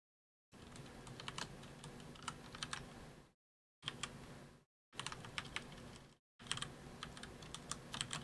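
Fingers clatter across a computer keyboard in quick, uneven bursts of clicks, broken by a few brief silent gaps, close and fairly quiet.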